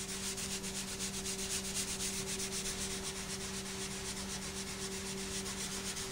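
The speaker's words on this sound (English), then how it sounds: "put a little bit on here and buff it out with that clean cloth" Clean cloth buffing a leather knife sheath in quick rhythmic strokes, a steady close rubbing with a constant low hum underneath.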